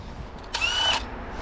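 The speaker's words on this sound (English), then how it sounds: "We're gonna fire this sucker up with the handy dandy drilling tool." A power drill spins up briefly to crank a small engine, giving a short, loud whine of about half a second against a quiet background.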